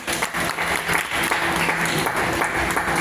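Dense, loud audience applause fills the hall at a freedom celebration program, continuous clapping from many hands throughout with no talk over it.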